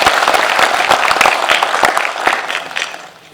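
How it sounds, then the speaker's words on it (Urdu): A crowd at a South Asian forum event applauds performing children with dense, steady clapping that swells briefly and then fades out over a few seconds. "پلیز آپ بھرپور تالیاں بجا کے ان کو داد دیجیے"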